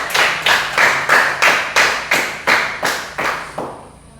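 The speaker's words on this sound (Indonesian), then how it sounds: "Ya, tepuk tangan untuk kelompok 1." A classroom group claps in unison, about nine loud, evenly spaced rhythmic claps at a steady beat, with no talking.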